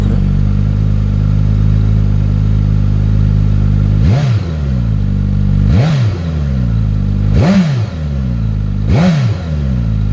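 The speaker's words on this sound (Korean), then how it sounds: "이게 지금 순정 배기음인데" Stock exhaust of a Suzuki GSX-S1000GT sport-touring motorcycle, a loud steady idle interrupted by four sharp throttle blips, each revving up and dropping back, spaced about every two seconds.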